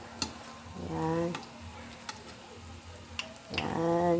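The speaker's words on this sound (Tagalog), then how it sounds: "Kasi nagpiprito pa po ako ng banana pancake." A banana pancake fries in a pan with a steady soft sizzle, broken by a few scraping stirs and brief ticks, close by.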